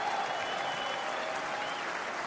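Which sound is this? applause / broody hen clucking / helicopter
applause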